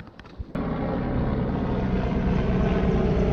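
A firefighting helicopter carrying water passes over the coast at Gazipaşa, Antalya, its rotor and engine roar rising abruptly after a brief quiet moment, then holding as a loud, steady, thick rumbling drone.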